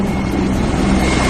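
Russian military helicopters fly low over houses, giving a loud, close, continuous rotor and engine roar with a faint rhythmic chop.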